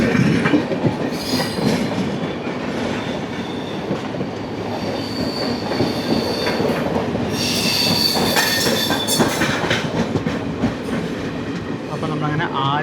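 The 12075 Jan Shatabdi Express with ICF coaches pulls into Aluva station: wheels squeal loudly and rails clatter throughout, with bursts of high screeching toward the end and a voice faintly underneath.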